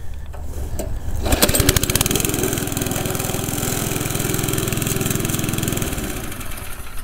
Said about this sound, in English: It starts on first pull every single time. It runs very, very good, other than the carb leaking.